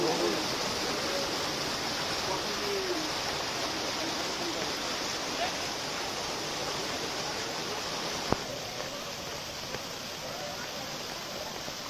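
Continuous broad rush of a flowing river, steady and fairly distant, with a single sharp knock partway through.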